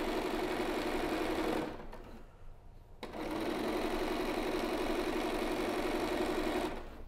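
A sewing machine runs steadily as it stitches a moulded fabric face mask, a close, continuous mechanical whir that stops briefly for about a second and then resumes, with no talking.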